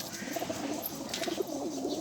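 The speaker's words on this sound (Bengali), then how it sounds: "এই হলো আমার ফ্লাইং কবুতরের মেলগুলো" Male flying pigeons resting in a loft after feeding give soft, repeated throaty coos at close range, with faint rustling and no voices.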